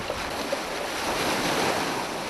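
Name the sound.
ocean waves rolling in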